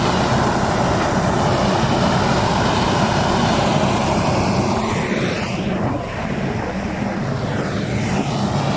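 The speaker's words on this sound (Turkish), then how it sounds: "Pervane inşallah bozulmaz. Çünkü bu kadar e, yüksek dönmemiştir şu zamana kadar." The sprayer fan on a New Holland T580B tractor spins at high speed during slurry spraying in a field, a loud, continuous airy roar with engine drone that stays steady throughout.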